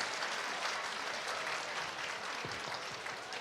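Applause from an audience at an NSG commando demonstration in Bhopal comes across as a dense, continuous patter of clapping, fairly distant and subdued, with no one talking over it.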